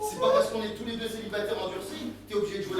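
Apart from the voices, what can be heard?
No everyday noise stands out behind the speech.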